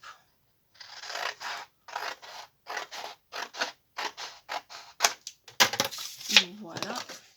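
Scissors snipping paper for a scrapbooking basket, a series of short, close, crisp cuts in uneven rhythm, ending with a few sharper rustles.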